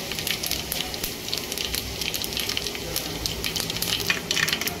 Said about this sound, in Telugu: జీలకర్ర ఆవాలు వేగిపోయినాయి కదా